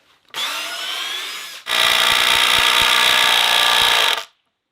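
A power drill revs in two loud, close bursts, a shorter run followed by a longer, heavier one with grinding, knocking load, then stops abruptly.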